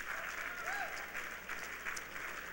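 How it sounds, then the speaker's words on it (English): Audience applause at a business event, a steady wash of clapping from a crowd that carries on evenly throughout, with some voices mixed in underneath. "So how about a round of applause for everyone here?"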